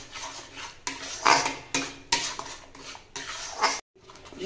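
A spoon stirs a palm fruit and semolina mixture in a pan, producing close, scraping and clinking strokes in irregular bursts with brief pauses between them, with no one speaking.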